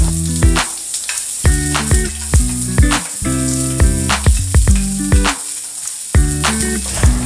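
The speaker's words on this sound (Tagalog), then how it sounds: "Naglagay nga ako ng kaunting mantika. Sinunod ko na nga rin ilagay ang bawang at sibuyas." Garlic and onion sauté in a little oil in a pan, a steady close sizzle punctuated by frequent utensil clinks and scrapes against the pan.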